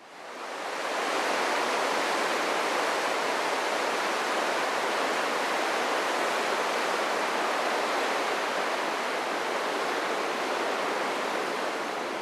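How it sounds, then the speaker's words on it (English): Tidal horizontal waterfall at Talbot Bay, Australia, pouring through a narrow gap in the rock: a steady, loud, broadband roar of rushing water with no talk over it. "this horizontal waterfall here at Talbot Bay would be one of Australia's greatest natural wonders"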